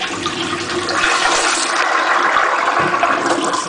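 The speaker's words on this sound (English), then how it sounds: "is a flush." Japanese washlet toilet at the Imperial Hotel Tokyo flushing, a loud steady rush of water lasting the whole stretch, close by and alone with no talk.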